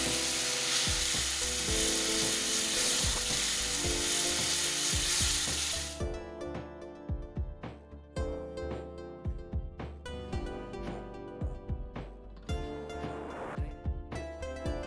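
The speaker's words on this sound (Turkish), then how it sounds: "375 mililitre sıcak suyu ekliyoruz ve karışım hamura benzer bir yapı oluşturana kadar karıştırmaya devam" Okara dough is stirred with hot water, giving a steady, close scraping and sloshing noise for about six seconds, then softer intermittent knocks of the spoon over background music.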